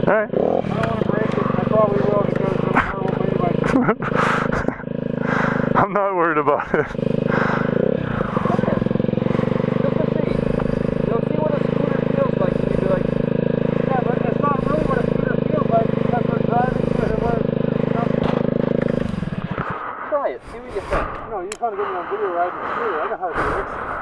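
A small scooter engine runs steadily and loudly close by on a Baja ride, a sustained buzzing drone that cuts out near the end, with people talking and laughing over it.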